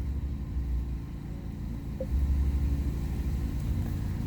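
A 2019 Mini Cooper S fitted with a JCW tuning kit idles steadily after start-up, a close, low engine rumble with a slight rise in level midway and no talk.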